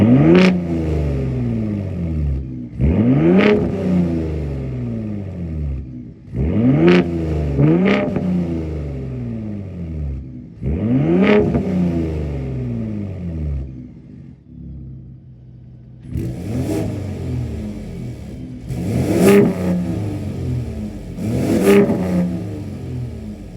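A 2023 Ford F-150 Raptor's 3.5-liter twin-turbo EcoBoost V6 revs up repeatedly at idle, first in sport mode and then in quiet mode, with loud, rising bursts and the later revs sounding sharper.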